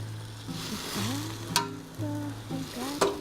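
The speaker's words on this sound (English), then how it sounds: "You can hear a little sizzle in there as they're starting to heat up." Gentle sizzling and soft crackling of pindo palm fruit in a hot pan, with a few louder sharp pops and clicks scattered through; no talking.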